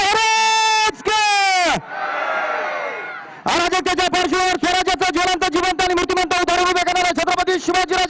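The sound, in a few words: crowd chanting in reply to a Chhatrapati Shivaji slogan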